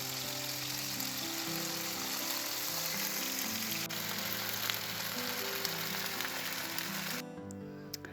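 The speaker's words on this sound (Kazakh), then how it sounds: "Тауық етін дәл осылай қуырып аламыз" Chicken meat fries in a pan for a home-made doner, a steady, close, broadband sizzle running unbroken for about seven seconds before it cuts away to a quieter shot.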